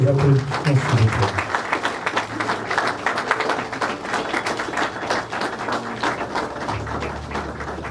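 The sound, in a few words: applause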